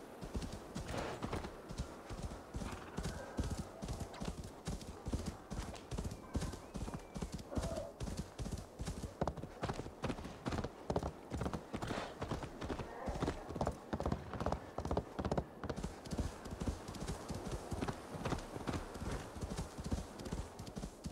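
Steady, rhythmic clip-clop of horse hooves trotting continuously in Assassin's Creed Valhalla, fairly close and even, with faint background ambience.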